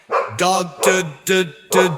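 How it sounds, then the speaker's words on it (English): Cartoon-style dog barking, four short bright barks in an even, quick rhythm, loud and close with clean gaps between them. "D is for dog,"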